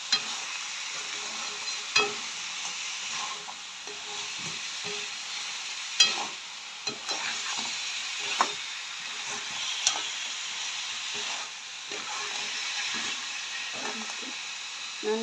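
Crab frying in oil for a Jaffna-style crab curry, a low continuous sizzle broken by frequent stirring clatters and scrapes, fairly quiet and with no talking.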